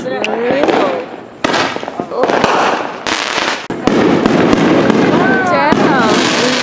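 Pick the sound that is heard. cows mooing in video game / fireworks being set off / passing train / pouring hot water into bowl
fireworks being set off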